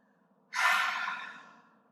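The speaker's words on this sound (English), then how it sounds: "Again, take the biggest breath that you took prior and exhale out of the mouth." A single deep breath pushed out through the mouth during a vinyasa yoga flow, a breathy rush that starts abruptly and fades over about a second and a half, close and fairly quiet.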